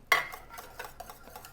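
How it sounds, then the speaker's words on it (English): Grits simmering in a pot get a quick whisk, a sharp metal clink followed by soft, light scraping strokes against the pot, close and fairly quiet. "give them another little whisk"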